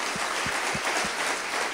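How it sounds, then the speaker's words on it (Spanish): Applause from a church congregation, a steady wash of clapping with a few low thumps repeating at regular intervals. "dale un fuerte aplauso al Señor?"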